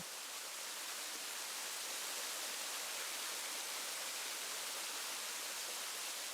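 Steady, dense rushing of falling water, like a waterfall heard from nearby, constant and unbroken with no voices.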